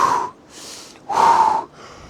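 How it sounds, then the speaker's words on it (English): Slow, deep breaths alternate in and out, each lasting about a quarter to half a second, with a strong airy rush on the inhales, heard up close with no talking. "You can breathe in and out."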